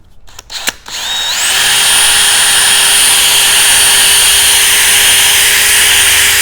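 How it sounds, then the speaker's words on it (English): A drill fitted with a sanding arbor and 500 grit sandpaper works on a car headlight; after a few clicks it spins up into a loud, steady high whine that holds throughout. "You're just going to start sanding."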